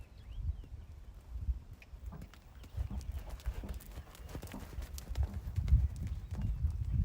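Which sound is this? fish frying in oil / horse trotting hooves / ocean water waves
horse trotting hooves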